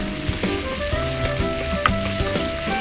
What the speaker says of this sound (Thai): จากนั้นเราใส่เต้าหู้ลงไปนะคะ แล้วก็ผัดให้เหลืองนะคะ